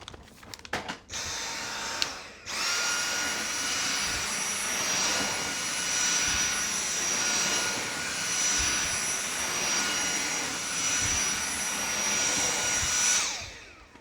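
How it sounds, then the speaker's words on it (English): A Dyson V7 cordless vacuum cleaner runs on a floor with a loud, steady high-pitched motor whine after a brief start, sustained and close for over ten seconds. "Let's try the Dyson. So this is the Dyson V7."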